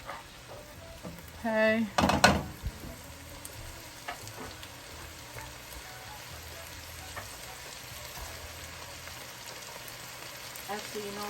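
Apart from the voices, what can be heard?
cabbage cooking down and sizzling in the pot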